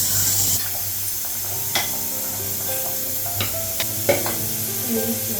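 Cabbage sizzles and hisses in a hot wok, with occasional scrapes and taps of a spatula stirring it.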